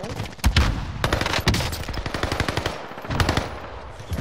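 Rapid automatic gunfire from a weapon in Call of Duty: Modern Warfare rattles out in close, loud bursts with short pauses between them.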